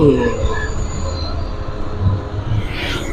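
A train rolls past close by near a railway station in Kankesanthurai, Jaffna, with loud continuous rumble, rail noise and wheel squeal throughout, and no talk over it.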